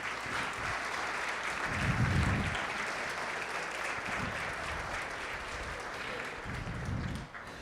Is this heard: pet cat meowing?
no